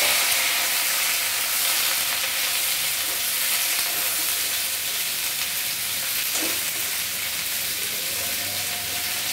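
Drumstick pieces and potatoes fry in hot oil with a continuous, even sizzle and hiss, close and fairly loud, with an occasional soft stir and no speech.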